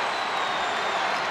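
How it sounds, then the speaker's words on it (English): Teammates and a packed arena crowd cheer and applaud Duke's captain during the 1992 NCAA men's basketball championship against Michigan, a steady, loud wash of clapping and crowd roar. "Teammates cheering on their captain."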